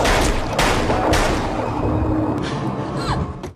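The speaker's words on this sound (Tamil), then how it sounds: "சாரா அலிசாவை துப்பாக்கியால சுட்டுறாங்க." Gunfire in a tense thriller scene: a dense, continuous burst of loud impacts and booms with sharp transients, filling the whole stretch with rough low rumble and no clear pauses.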